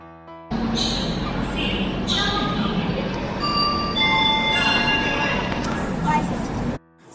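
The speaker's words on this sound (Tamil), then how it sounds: "கரெக்டாக ட்ரெயின் வந்து 7:35க்கு எடுத்தாச்சு" A departing train rumbles steadily with a low hum while a bell chimes and high tonal squeals ring out, then the noise cuts off.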